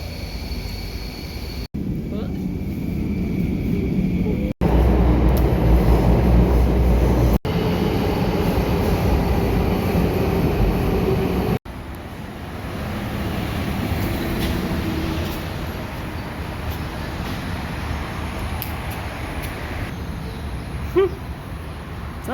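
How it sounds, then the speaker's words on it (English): A Singapore MRT subway train rumbles along at a steady roar in several abrupt segments, with low rail noise and mechanical hum, and voices are faintly present at times. "now we're gonna take the MRT, the train, or subway"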